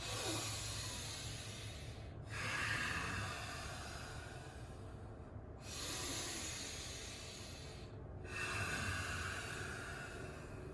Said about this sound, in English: start to breathe again, all the way in through the nose, but this time exhale through the nose